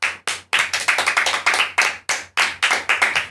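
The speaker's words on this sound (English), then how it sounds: "I'd like to give you a round of applause" A small group clapping for two coworkers on a podcast, a short run of distinct, close handclaps in uneven bursts with brief gaps, fairly loud and dry.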